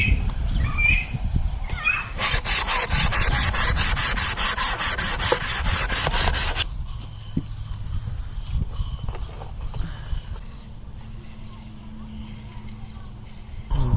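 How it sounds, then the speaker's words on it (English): A knife made from a saw blade is honed on an oiled 1,000-grit diamond hone block, giving a loud, rapid back-and-forth rasping strokes for several seconds that then stops, leaving quieter handling noises. "A diamond hone, so typically you don't even need oil, but I use it anyway."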